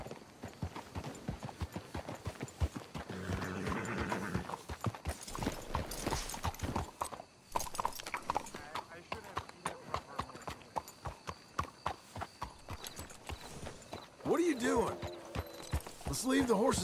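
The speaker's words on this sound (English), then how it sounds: "Leave the horses here." In a video game set in Saint Denis, rapid, steady clip-clop of horse hooves continues throughout, with a brief whinny and snorting near the end; voices talk occasionally over it.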